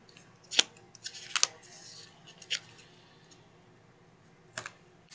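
Scissors cut out woven basket side pieces: a few sharp, quiet snips come in short clusters with pauses between them, and no one speaks.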